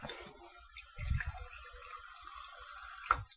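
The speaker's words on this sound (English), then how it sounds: "get my dough started with 1 cup of hot tap water" Hot tap water running from a kitchen faucet into a measuring cup for pizza dough, a steady hissing stream heard up close with a few soft clunks as the cup shifts, ending when the flow stops.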